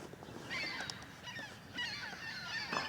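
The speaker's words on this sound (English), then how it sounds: "here come the noises of the other birds" Distant geese honk outdoors in the early morning dark, a scattered chorus of overlapping calls that stays faint and steady throughout, with no talking.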